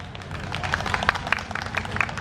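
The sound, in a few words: audience applause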